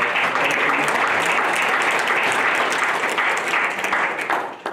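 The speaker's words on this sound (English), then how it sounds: "Give these guys a round of applause" A town hall audience at a housing center breaks into loud, sustained applause that fills the room for several seconds, a dense wash of clapping that tapers slightly at the end.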